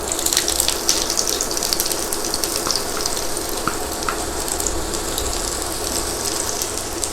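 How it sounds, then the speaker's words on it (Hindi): Steady, dense sizzle of onions frying in hot sesame oil, a continuous crackling hiss with no voices, fairly loud and close. "तेल गर्म हो चुका है। अब इसमें हम डालेंगे प्याज"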